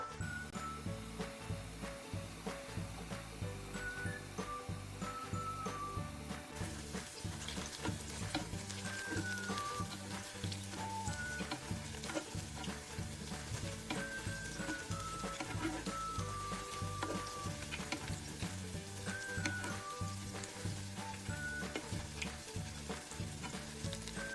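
Mixed vegetable snack deep frying in hot oil, a dense, continuous bubbling sizzle with small pops and crackles throughout, close and steady.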